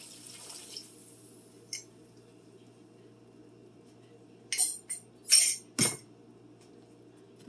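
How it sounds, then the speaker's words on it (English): Thick glaze poured over a ham in a home kitchen, a quiet background with a few brief wet drips and splats clustered near the end. "and pour it right over the ham."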